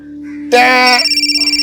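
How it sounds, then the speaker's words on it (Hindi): A telephone rings indoors during a family scene, a short burst of bright tones followed by a steady pulsing ring with a low hum underneath. "अरे हमारी नहीं, फोन की घंटी बज गई।"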